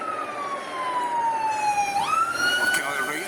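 A wailing emergency siren in an urban neighborhood sweeps slowly down in pitch, then jumps back up into a new rising wail, loud and continuous with some traffic rumble beneath.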